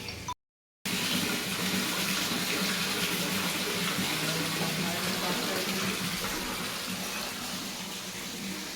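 A waterfall near the Mahavinayak temple pours down in a loud, continuous rushing hiss, close and steady after a brief gap of silence at the start.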